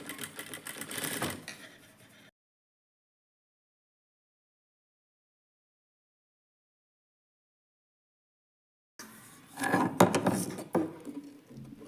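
A sewing machine stitches a garment collar in two separate bursts, first a short run and then a longer one after a gap of silence, both close and moderately loud.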